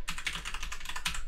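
Rapid typing on a computer keyboard, a quick run of close, crisp key clicks with no voice.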